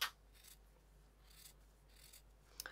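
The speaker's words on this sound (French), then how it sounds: "je vais juste vous couper un côté" Scissors cut through fabric while a multi-pocket bag organiser is sewn, with soft, faint snips and rasping slides heard close with no talk.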